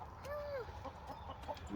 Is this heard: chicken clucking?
yes